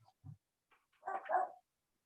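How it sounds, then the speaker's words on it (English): A dog barks a few short, faint times from somewhere off in the room, with small yips between the louder barks and quiet in between. "Just a barking dog"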